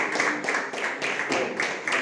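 A church congregation claps together in a steady rhythmic beat, a full close wash of hands filling the room throughout.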